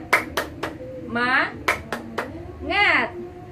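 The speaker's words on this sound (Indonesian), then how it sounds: "kita coba tepuk semangat dulu yuk" Children in a classroom clap in a quick rhythmic pattern of sharp bursts, alternating with shouted group chanting, near and loud.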